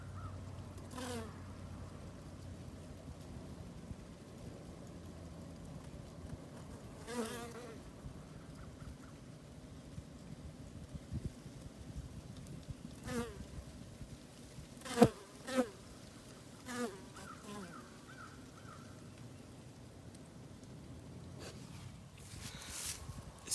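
Honey bees flying near a winter beehive on a mid-40s day, a thin insect buzz rising and fading in brief passes over faint background hum and occasional soft knocks.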